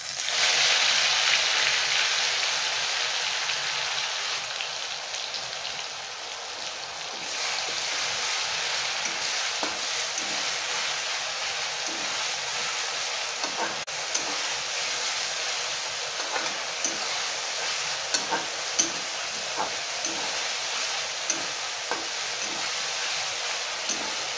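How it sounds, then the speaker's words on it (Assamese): Ginger garlic paste sizzles steadily in hot oil with cumin seeds for palak paneer, with faint intermittent stirring clicks under the constant hiss. "এতিয়া আদা নহৰুখিনি ভালদৰে ফ্ৰাই হ'ল।"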